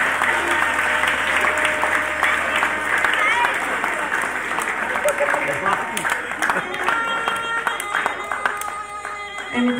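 Guests at a Bulgarian wedding reception break into lively applause for the groom's mother, a loud, sustained burst of clapping with crowd voices and cheering mixed in for nearly ten seconds.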